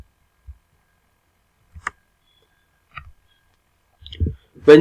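Computer mouse clicking, with a few sharp, isolated clicks spaced about a second apart in a quiet room, ending with a brief stretch of voice.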